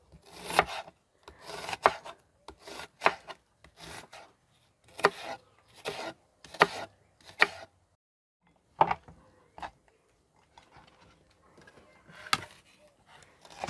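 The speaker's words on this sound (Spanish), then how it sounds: "Voy a empezar a cortar también cebolla" A knife cuts onion on a cutting board in a home kitchen, producing bursts of rasping, scraping strokes in uneven clusters with pauses between, close and fairly clear with no talking.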